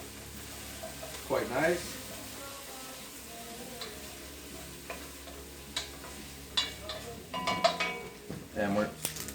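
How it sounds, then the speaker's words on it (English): Onions sweating in a pan, a low sizzle under a voice, with occasional spoon stirs and clinks of cookware. "So we've got our onions sweating down there now"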